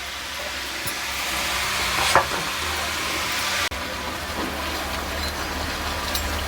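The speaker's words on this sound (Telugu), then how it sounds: "మనం అన్ని మురుకులు ఇట్లనే డీప్ ఫ్రై చేసుకోవాలండి" Murukku dough deep fries in hot oil with a steady, dense sizzle and bubbling that goes on throughout, broken by one or two brief clicks and a short bump partway through.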